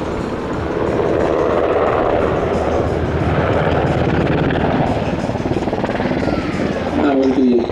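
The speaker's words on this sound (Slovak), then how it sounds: "pilot ukončuje osmičku do stúpaním pred stredom dráhy, otáča vrtuľník doľava" A UH-60M Black Hawk helicopter of the Slovak Air Force performs a dynamic flight display at an air show, its broad, steady rotor and turbine roar filling the air throughout while a commentator speaks over it.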